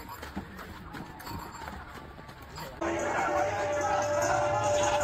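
Bullock cart drawn by bulls entering a busy village fair (jatre), with steady crowd hubbub and a sudden louder burst of fair noise partway through; voices mingle in the background.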